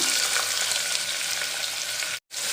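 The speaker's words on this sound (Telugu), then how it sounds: "ఉల్లిపాయ పచ్చిమిర్చి వేసి బాగా ఫ్రై చేసుకుందాం" Onions and green chillies sizzle steadily in hot oil inside a small pressure cooker, a dense, close frying hiss that holds evenly before a brief dip and returns.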